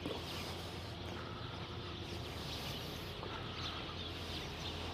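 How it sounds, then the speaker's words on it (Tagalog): Chickens cluck outdoors in the Philippines, soft and somewhat distant against a steady background hum, with scattered calls throughout and no voices. "Mga ibon."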